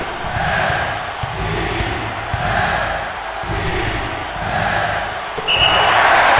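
Synthesized arena crowd noise from the PS1 basketball game NCAA March Madness 2001 rumbles steadily in waves, with a few ball bounces and a louder surge near the end.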